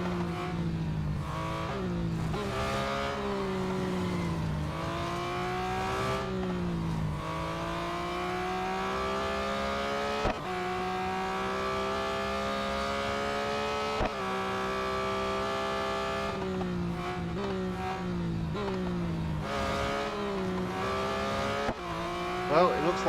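A BMW M3 GTR race car in Real Racing 3 roars through repeated gear changes, its engine pitch climbing and dropping steadily, with brief tire squeals and other cars in the mix.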